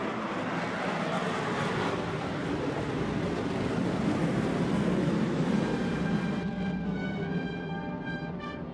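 A B-1 Lancer bomber roars overhead in a loud, sustained broadband rumble at an outdoor celebration, holding steady before a faint whine emerges as the jet passes.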